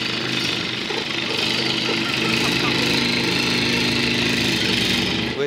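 A voice mimics a jackhammer with a steady, loud, buzzing rattle that holds unbroken for several seconds without any pause.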